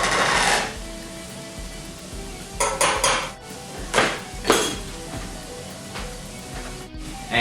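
A butter and flour roux is stirred in a pan over medium-low heat. A utensil clinks and scrapes against the metal in irregular bursts over a faint sizzle, with no talking.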